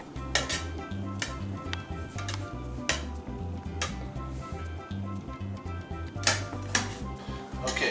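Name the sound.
cutting shrimp in the kitchen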